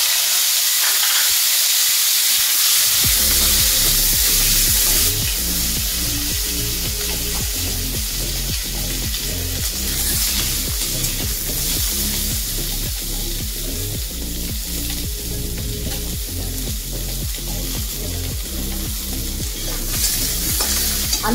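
Diced potatoes fry in oil in a pan, a loud continuous sizzle with steam and hiss. A utensil stirs through them in steady, repeated scraping strokes.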